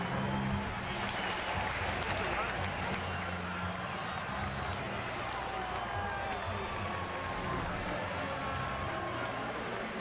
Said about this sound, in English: Nice round of applause for Renteria as he walks off the field.